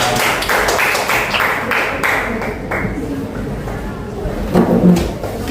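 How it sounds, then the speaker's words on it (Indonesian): Children in a grade 4 classroom clap for group 2, a burst of quick, uneven claps that thins out after a few seconds, with voices talking over and after it. "Tepuk tangan untuk kelompok 2."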